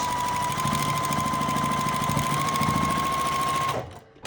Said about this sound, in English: I'm just gonna sew right stitch in the ditch.